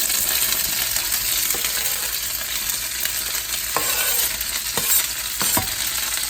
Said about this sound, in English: put a little bit of oil into your frying pan or your wok and you let the oil heat up